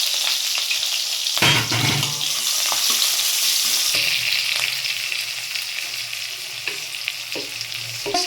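Chopped onion and green chillies hit hot fish oil in a kadai, bursting into a loud, steady sizzle with a few light clinks and scrapes, close and without talk.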